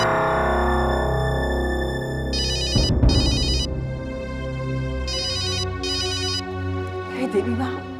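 A telephone rings in a domestic drama scene, repeated electronic ringtone bursts in pairs over swelling background music and dramatic sound effects.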